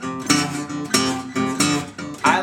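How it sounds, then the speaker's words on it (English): Acoustic guitar plays a boogie woogie rhythm in E, with strings pinched together, giving a loud, close, choppy shuffle of repeated chord strokes with no talking. "this is the part of the boogie woogie rhythm that sounds like this"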